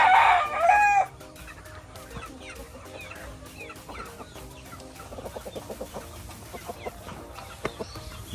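A rooster crows loudly at the start, followed by scattered clucking from several chickens in a busy farmyard.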